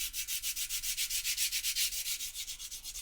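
Bicycle paint on a Talbot EP2 is wet-sanded by hand with 2000-grit sandpaper: a quick, even back-and-forth rubbing of about five strokes per second, close and with no talking.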